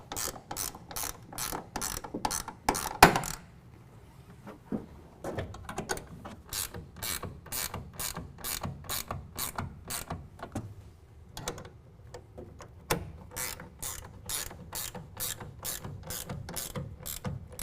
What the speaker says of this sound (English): then we can go ahead and tighten down all of our clamps with a 1/2 inch ratchet wrench.